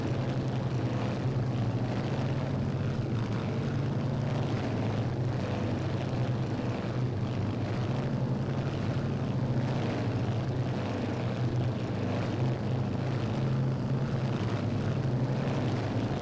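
B-26K Counter Invader propeller plane in the Strike Fighters 2 flight game, its engines producing a steady, loud droning hum with constant tone throughout a descent toward pattern altitude near Saigon.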